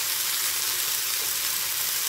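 Turmeric, red chilli powder and coriander powder hit hot oil in a pan while cooking radish-leaf toor dal, giving a steady, loud, continuous sizzle and fry hiss with no pause or talk.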